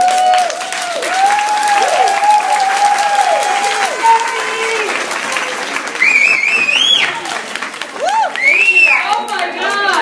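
Guests at a Pampered Chef home cooking party give a round of applause, dense clapping under cheerful talk and exclamations, with high excited voices and a voice rising over the hands near the end.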